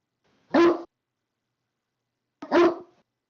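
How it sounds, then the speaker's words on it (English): A dog barks twice, close and loud, with a gap of almost two seconds between the single sharp barks and silence around them. "Shut that fucking dog up."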